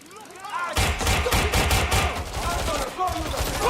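Rapid bursts of gunfire from a firefight in the Watch Dogs Legion video game, loud and dense after a quiet opening, with repeated volleys and some voices shouting underneath.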